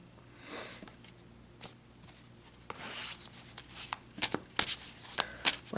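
A tarot card deck shuffled by hand, soft riffling and brushing that grows louder and sharper toward the end, with several crisp card snaps over a quiet room.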